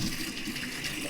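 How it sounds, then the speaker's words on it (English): Water rushes steadily through a camper's plumbing after being turned on, a continuous close hiss and gush with no pauses. "So we're going to open up the water."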